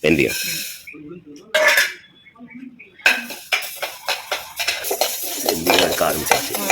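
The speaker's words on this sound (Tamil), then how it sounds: "வெந்தயம் கரெக்டான பக்குவத்தில் வறுக்கணும்" Fenugreek seeds dry roasting in a pan for a homemade spice powder, a scraping stir with the spoon clattering against the metal, in uneven bursts with short pauses and some sizzle, close and fairly loud.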